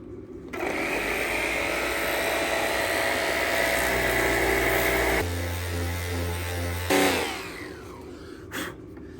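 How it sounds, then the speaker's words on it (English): An orbital sander fitted with a 240-grit disc runs steadily over a car body panel, a continuous loud whirring drone that shifts pitch midway, then cuts off with a few brief knocks near the end. "we've got a 240 disc on there, and it's just an orbital sander"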